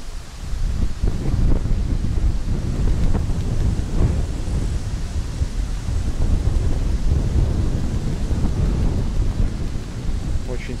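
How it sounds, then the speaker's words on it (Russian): Strong wind at an outdoor war memorial complex in Ushachi District, Belarus, roars and buffets the microphone with a continuous low rumble, loud and unbroken throughout. "Очень сильный ветер"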